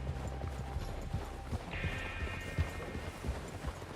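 Horse hooves clip-clopping at a steady walk on a ridge in the game Red Dead Redemption 2, close and rhythmic, with a thin high whine and low ambient rumble beneath.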